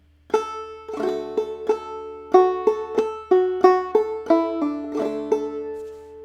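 A clawhammer banjo plays the opening two measures of the B part of "Briarpicker Brown", a run of bright plucked notes and brushed strums in steady rhythm, close and clear, alone without talk.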